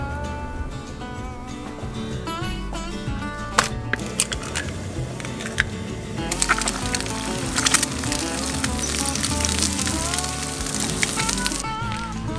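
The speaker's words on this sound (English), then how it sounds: "let's make up our bacon and eggs" Bacon and eggs frying in a pan give a steady crackling sizzle, partly masked by louder background music that runs throughout.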